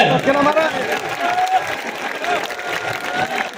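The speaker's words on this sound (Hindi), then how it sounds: "तालियां नहीं रुकनी चाहिए।" A crowd at a political gathering applauds while a silver crown is presented, the clapping rising and falling under loud voices that carry over it.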